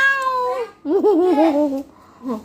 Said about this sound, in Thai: มาดูแมว ว้าว